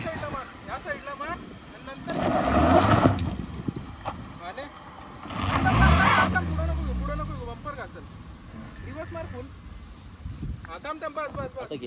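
A Maruti Swift's engine revs hard in two loud surges as it strains up a steep offroad slope near Karjat, with people talking nearby and wind buffeting throughout.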